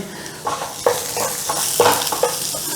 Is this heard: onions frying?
yes